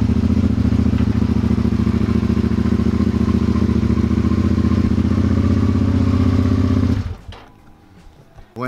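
A Suzuki SV650S V-twin motorcycle, freshly fitted with a new key, ignition, plugs and air filter, runs loud and steady up close for about seven seconds, then cuts off into near silence.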